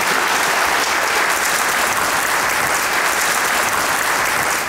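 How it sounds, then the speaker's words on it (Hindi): A studio audience at a Pakistani comedy show applauds in a loud, dense, unbroken burst of clapping that holds steady from start to finish, with no talk over it. "तालियां होनी चाहिए इसके लिए भी।"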